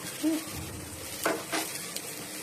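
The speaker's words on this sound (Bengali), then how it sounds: "বন্ধুরা উচ্চে আলু ভাজা বসিয়ে দিয়েছি" Bitter gourd and potato fry in a pan with a steady soft sizzle, while a couple of light utensil clinks from stirring stand out near the middle of the short stretch.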